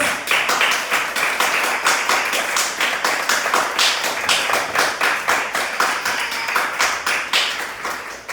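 Church congregation applauding for God during a Spanish-language service, a loud, sustained round of clapping with distinct sharp hand claps repeating throughout, no talk.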